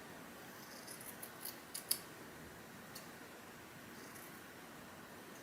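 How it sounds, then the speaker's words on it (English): Convex hair-cutting shears snip through hair in a few faint, crisp clicks near the middle, a sharper snip standing out, over quiet room hiss with no talking. "Let's see if these cut hair."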